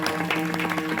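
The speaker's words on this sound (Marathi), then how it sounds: "खरं तर या सप्ताह कमिटी करता एकदा जोरदार टाळ्या वाजवा" A village kirtan crowd claps together, the brief burst of dense applause steady and close, with a low hum underneath.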